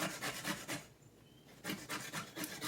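Zucchini is grated on a knuckle buster box grater in a home kitchen with quick rhythmic rasping strokes, a burst of scrapes, a short pause, then another run of close, fairly soft grating.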